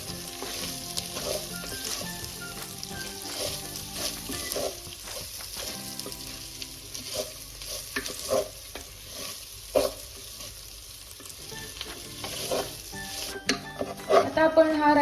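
Rice roasting with biryani masala in a pan, stirred continuously with a utensil, producing a steady dry sizzle, scraping and occasional clinks against the metal.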